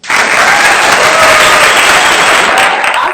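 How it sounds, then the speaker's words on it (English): A graduation audience applauds steadily, a dense, loud wash of many hands clapping in a large hall that holds constant throughout before tapering slightly at the end. "Give yourself a round of applause."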